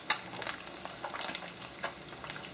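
Eggs sizzle and crackle in a pan while being fried over easy, a close, steady hiss with small pops and a sharp tap near the start, no talking.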